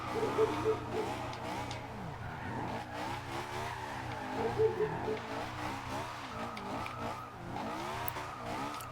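A Honda S2000 drifting in Forza Horizon 2, its engine revving and falling in waves as tires squeal in repeated wavering bursts, someone talking quietly underneath.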